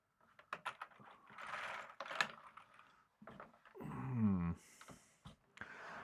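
Keys clack in quick irregular bursts on a multicolored Commodore computer keyboard, close and fairly quiet, with a brief mechanical whir and scrape partway through.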